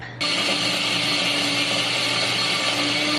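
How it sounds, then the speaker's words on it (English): A blender whirs steadily as it purées garbanzo beans with a splash of milk, a loud, continuous motor drone starting abruptly and running without a break, with no talk. "we're gonna transfer this over to the blender and blend it up"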